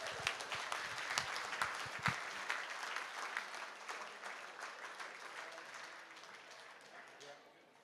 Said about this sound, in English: let's give our dancers another big round of applause